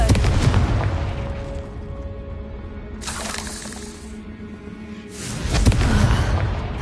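Confringo spell blasts in Hogwarts Legacy, a heavy booming explosion with crackling burst at the start, then two more bright fiery bursts a couple of seconds apart over low rumbling game ambience.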